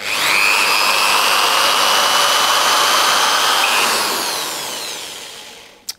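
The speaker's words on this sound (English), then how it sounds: "attach that to a standard drill" A standard power drill with an attachment fitted spins up at once into a loud, steady high-pitched whine, holds for about five seconds, then winds down and stops with a short knock at the end.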